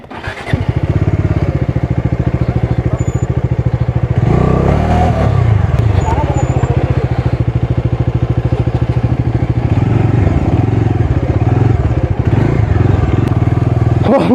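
Motorcycle ridden slowly off-road at Nisan Doba, its engine chugging loudly and continuously close by with rattling clatter and occasional bumps, steady throttle throughout with a brief change in tone midway.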